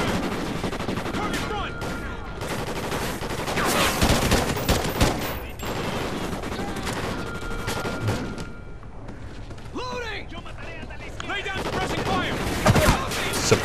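Gunfire in Call of Duty: Ghosts: dense bursts of automatic rifle and machine-gun fire crackle continuously with heavy thumps and booms throughout, loud and close, with a player's voice occasionally talking over the battle.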